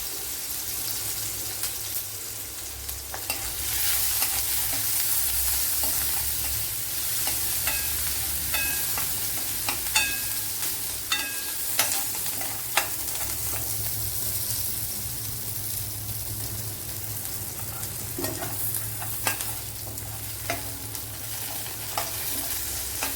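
Green chilies with crushed garlic and ginger fry in a pan, a continuous moderate sizzle dotted with irregular crackles and occasional clinks of stirring throughout.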